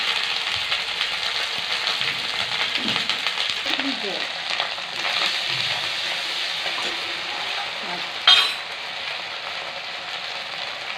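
Dried chili and ginger paste fry in hot oil, giving a steady close sizzle with a soft scrape of stirring and a brief sharper hiss near the end, no talking.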